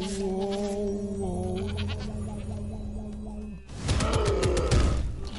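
A goat bleats in the Spyro: Ripto's Rage video game, with rising and falling cries over game music, followed by a louder burst of noisy sound effects near the end.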